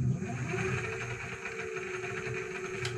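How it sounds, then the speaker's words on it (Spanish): A steady mechanical whir with a constant tonal hum, like a small geared motor running continuously, with a brief click near the end. "Disculpen el ruido porque este es un motor con engranajes"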